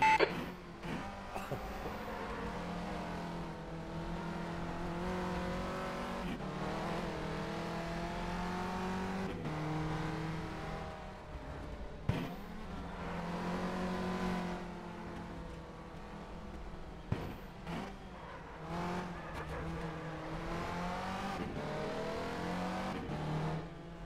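Renault Clio race cars lapping Cadwell Park in the rFactor 2 racing game, engines droning and revving continuously up and down through gear changes, with brief blips and beeps, loud and close throughout.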